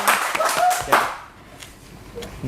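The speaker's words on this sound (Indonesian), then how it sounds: "Boleh tepuk tangan dulu ya." An audience claps in a short burst during a campus talk show, a few seconds of mixed hand claps fading quickly, with a voice speaking over the start.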